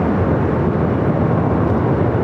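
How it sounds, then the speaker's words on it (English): Airbus A330neo airliner at Los Angeles International Airport, heard as a steady, continuous broadband jet roar with no clear breaks, fairly loud and constant throughout. "A330 Neo."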